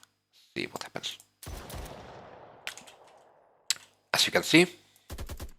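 Gunfire in an Unreal Engine 5 zombies shooter game, a few sharp separate shots and short bursts with a decaying tail, close and clipped, while someone speaks briefly between them.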